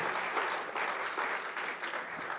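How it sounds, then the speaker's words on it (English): Moderate, steady applause from an audience at a Sacramento press conference honours local elected officials, heard at some distance and continuing evenly through the short stretch. "Please give them a round of applause"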